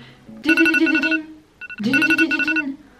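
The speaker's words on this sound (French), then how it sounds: "J'aimerais pouvoir avoir un réveil autre que ce" A mobile phone alarm ringtone plays two loud, bright melodic bursts of bell-like tones separated by a short gap, clear and close with no other sound.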